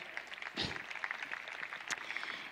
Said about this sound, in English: I think that's one worth clapping for